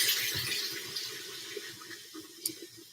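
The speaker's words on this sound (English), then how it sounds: "so I got to get these in the water to cool" Running water from a kitchen tap splashing steadily into a sink or pot while cooking, close and moderately quiet, with small clinks and a sharper splash near the end.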